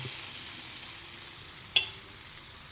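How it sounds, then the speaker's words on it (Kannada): Batter spreads across a hot griddle with a soft, continuous sizzle close by, one sharper tap or scrape partway through, and no talking. "ಹೆಂಚು ನೋಡಿ ಕಾಯಕ್ಕೆ ಇಟ್ಟಿದ್ದೀನಿ ಇದನ್ನು ನಿಧಾನವಾಗಿ ಎಲ್ಲ ಕಡೆಯೂ ಬೀಳೋ ಹಾಗೆ ಹೀಗೆ ಹಾಕಿ"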